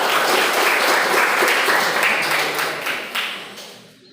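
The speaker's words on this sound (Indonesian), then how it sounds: "Tepuk tangan untuk kelompok Pancasila." A classroom of students claps for a student group in a brief, dense burst of applause that starts loud and fades out over a few seconds.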